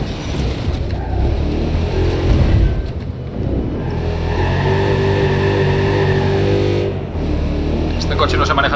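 A car engine in the video game Watch Dogs 2 drones steadily and loudly while driving, its pitch shifting as the car speeds up and slows down, with someone talking over it.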